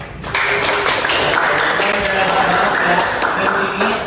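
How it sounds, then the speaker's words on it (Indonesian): An audience at an accounting class session breaks into applause, with a dense, steady wash of clapping sustained across the whole stretch, close and fairly loud. "Boleh berikan tepuk tangan buat dirinya masing-masing dulu."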